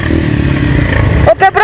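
Dirt motorcycle revving hard on a rough off-road trail, a loud close engine roar that drops briefly and then surges again in short rising bursts, with clattering over the bumps.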